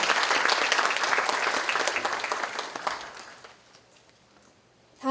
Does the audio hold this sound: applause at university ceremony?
yes